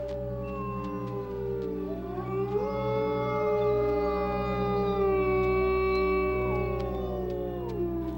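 A wolf pack howls mournfully, several long overlapping voices gliding and sustained in a layered chorus, loud and continuous with no other sounds.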